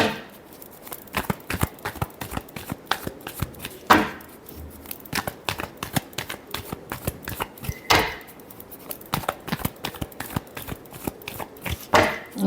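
Tarot cards are shuffled by hand up close, a continuous run of crisp riffling flicks and taps with louder slapping bursts roughly every four seconds.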